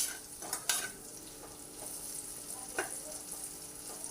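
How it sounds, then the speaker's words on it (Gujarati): Tomatoes sautéing in a pan while cooking batata poha, with a soft, steady sizzle and a few brief clinks and scrapes of a spoon stirring against the pan. "આપણા ટમેટાં પણ એકદમ સરસ સંતળાઈ ગયા છે"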